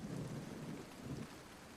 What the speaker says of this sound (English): I want to get out of the rain.